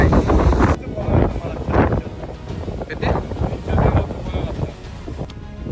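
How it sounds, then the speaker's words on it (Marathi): Strong gusty wind rumbles against the microphone at the top of Rajmachi Fort while someone speaks over it in short bursts. "एवढा सोसाड्याचा वारा आहे"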